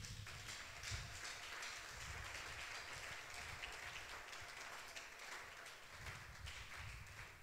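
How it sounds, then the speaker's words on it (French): A church congregation claps and cheers during a French-language worship service, with continuous dense applause that stays faint, as if heard from a distance, throughout. "Acclame le Seigneur."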